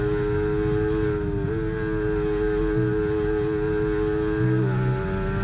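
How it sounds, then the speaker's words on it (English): Mercedes Formula 1 car engine in the F1 24 racing game during practice, a steady high-pitched whine held at nearly constant revs. The note dips briefly at gear changes near the middle and the end. No talking. "I'll let you guys listen to the engine sound through here"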